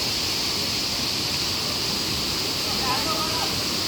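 Rushing water of the Kalmandavi waterfall near Jawhar, a steady broadband roar that continues unchanged throughout, close and fairly loud with no break.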